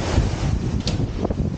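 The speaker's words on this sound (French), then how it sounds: "Vous voyez avec le vent qu'il y a." Gusty wind buffets the microphone at a seaside campsite in February, a rough, continuous rumble with uneven surges. A couple of faint clicks sound in the background and no one speaks.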